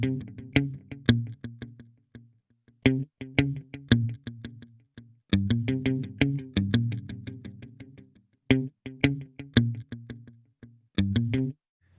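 A RE4ORM FX reverse delay effect processes short plucked and struck notes in bursts, with reversed reflection tails swelling between clean gaps of silence, heard alone without talking.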